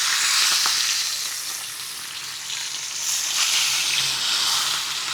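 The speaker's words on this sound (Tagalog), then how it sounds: "Tapos piprituhin na po natin itong dalagang bukid." Dalagang bukid fish fries in hot cooking oil with a loud, continuous, close-up crackling sizzle that swells and eases slightly over a few seconds.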